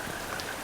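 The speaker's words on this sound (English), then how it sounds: "it's raining." Steady rain falling, a dense even hiss of drops hitting surfaces that fills the whole moment without pause.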